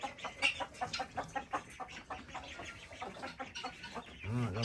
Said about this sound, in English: Another chicken in here.